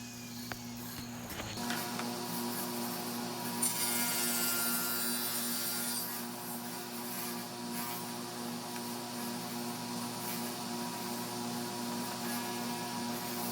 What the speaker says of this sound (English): I put it on a tapering jig and I could cut out the taper of each leg